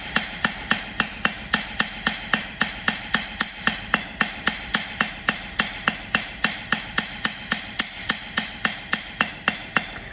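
Hammer forging wire into a jewelry ring band in a studio, a steady run of sharp metallic blows, about three per second and evenly spaced, close and loud with no voices.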